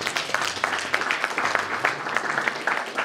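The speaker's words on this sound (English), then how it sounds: "Let's give him a good hand clap." Audience applause at a dinner: dense, steady clapping from many people filling the whole stretch, close and moderately loud, with no speech.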